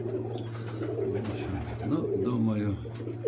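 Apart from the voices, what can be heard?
pigeons cooing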